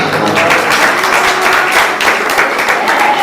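A crowd at a Jain religious discourse on Mahavir breaks into loud, sustained applause, a dense wash of many hands clapping together.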